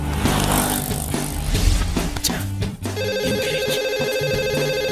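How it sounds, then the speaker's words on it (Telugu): A mobile phone rings with an incoming call in a Telugu film scene, its steady electronic ringtone carrying on alone after a busier, noisier passage at the start. "ఈ ఫోన్ కాడే చేస్తున్నట్టున్నాడు"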